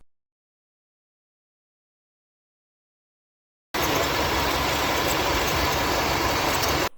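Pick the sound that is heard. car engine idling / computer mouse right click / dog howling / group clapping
car engine idling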